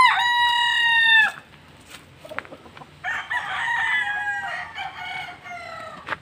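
A rooster crows loudly nearby on a farm of fighting cocks, followed after a pause by another long crow and scattered clucking from chickens around it.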